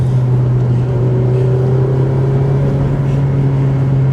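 Honda Civic Type R FD2 with its K20A engine holds a loud, steady high-rpm drone with a strong, even tone throughout and no voices.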